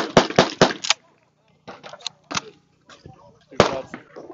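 Beretta A400 shotgun shots fired into the air at an outdoor shooting event, several loud reports in a quick cluster at first, then scattered shots with pauses and quieter sounds between them.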